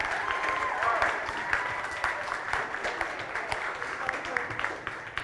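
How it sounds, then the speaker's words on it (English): An audience at a university ballroom dance competition applauds the judges. Dense, lively clapping with a few louder individual claps runs throughout, and faint crowd voices mix in underneath. "Round of applause for our judges, please."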